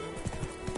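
Hooves of a horse in The Witcher 3 video game, a brief run of soft, evenly spaced clip-clop beats under a steady bed of game ambience and music.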